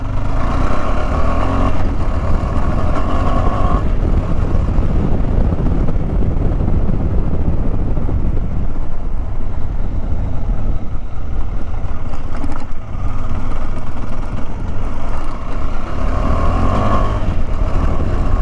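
A 2024 KTM Adventure 390 motorcycle engine pulls hard under throttle while riding over a rocky track. It is a loud, continuous drone with wind rush, swelling and easing slightly, and no talk.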